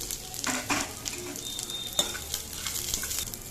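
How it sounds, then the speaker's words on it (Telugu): Onions, curry leaves and cashews frying in oil for wheat rava upma, a steady close sizzle with stirring scrapes and light clinks from the pan. "ఉల్లిపాయలు వేస్తున్నానండి. కరివేపాకు కూడా వేస్తున్నానండి, జీడిపప్పు కూడా వేసేస్తాను."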